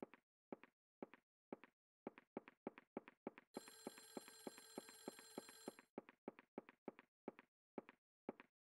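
A telephone rings in the survival horror video game Clock Tower, a loud rapid electronic bell burst lasting about two seconds. Regular footstep-like taps sound before and after it.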